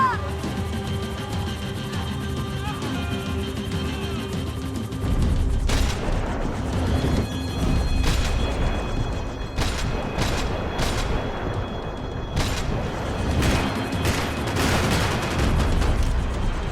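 Gunfire and explosions in Max Payne 3 gameplay: a steady rumbling din, then a string of sharp, loud shots and booms in irregular bursts, with shouting voices mixed in.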